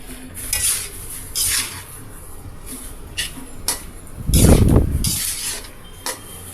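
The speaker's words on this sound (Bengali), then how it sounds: "এগুলোকে নাড়িয়ে ভালোভাবে সিদ্ধ করে নিতে হবে" Sweet and sour mango pickle is stirred in a pot, with a ladle scraping and clinking against the metal in irregular strokes and a burst of bubbling sizzle midway, close up with no talking.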